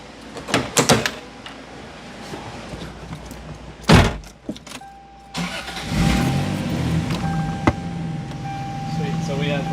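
A car on a dyno is cranked and fires up, a sharp start followed by a steady running idle, with a door-like thud and people talking in the background.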